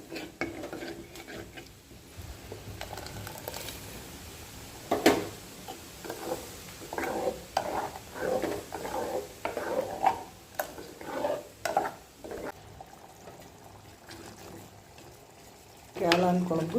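Ground coconut paste going into a simmering wild mushroom curry: soft pouring and stirring scrapes with gentle bubbling, a few sharper knocks of a utensil, and a voice talking over the pot.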